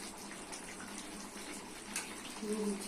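Water pours into a pot of simmering chicken, potato, tomato and ridge gourd curry, a soft steady splash and rush heard up close at low level, with a faint voice near the end.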